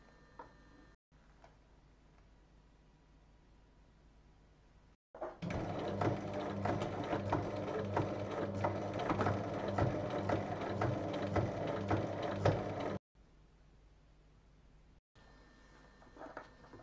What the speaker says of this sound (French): placer la partie suivante endroit contre endroit et on pique en commençant à 1 cm et en arrêtant à 1 cm